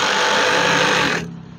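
A sewing machine stitches a wide curtain panel with a steady, close, continuous whir that stops abruptly near the end, leaving faint room noise.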